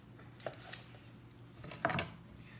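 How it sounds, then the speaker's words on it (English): A knife cutting a couple of slices from tender cooked pork loin for a one-pot sauerkraut meal, two soft chopping thuds against a board with a quiet pause between, faint and close. "we're going to take that pork one, cut a couple really simple slices"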